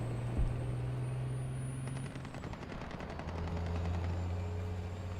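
Bursts of automatic gunfire in a multiplayer shooter game, sounding off at a distance amid a low mechanical engine drone, with no voices over it.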